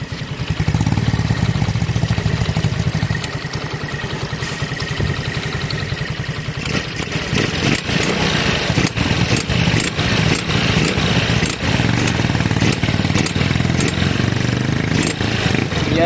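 Loose, worn clutch lining rattling inside a motorcycle engine with stock head, stock carb, stock pipe and 6.2 cam, a steady close idle carrying a continuous metallic clatter, with bursts of revving and clanking in the later part.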